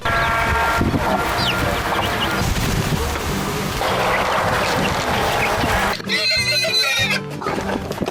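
Hens and chicks cluck and squawk amid a busy farmyard din at a checkpoint homestead with a pig, a horse-like whinny mixed in, continuous and fairly loud throughout.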